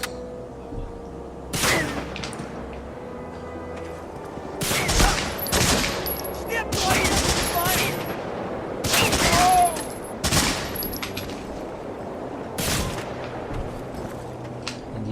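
Rapid, irregular bursts of gunfire and heavy blasts in the Medal of Honor: Frontline shooter game, loud and close, with faint voices in the background.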